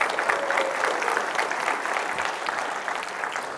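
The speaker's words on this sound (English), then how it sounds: "let's round of applause for the engineers for that one" An audience at a Roblox developer conference applauds steadily for several seconds, a dense even wash of clapping at moderate level with no speech over it.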